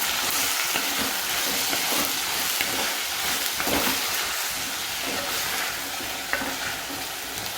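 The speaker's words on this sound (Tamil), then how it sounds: "இதை உங்களுக்கு ஒரு வதக்கிட்டு நான் காட்டுறேன்." Onion, carrot and bean vegetables for pulao sautéing in a pan, a loud, continuous close-up sizzle and hiss with rough stirring scrapes running throughout.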